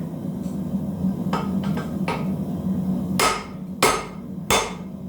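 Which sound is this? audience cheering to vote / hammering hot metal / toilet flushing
hammering hot metal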